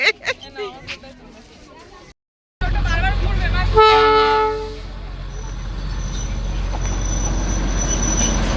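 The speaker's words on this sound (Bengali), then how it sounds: "না এটা অন্য আর একটা ট্রেন দেখুন" A passing train at Batasia Loop on the Darjeeling hill route sounds a horn toot from close by with a rumbling, squealing wheel roar beneath, after a brief cut and some earlier background talk.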